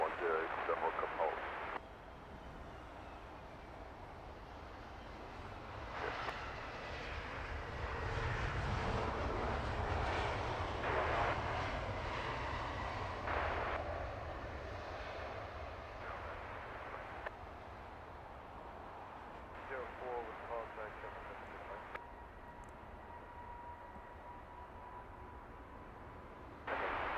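An airliner arriving at London Heathrow Airport, its engine roar swelling and fading at a distance across a long stretch, with radio-style talk over the top.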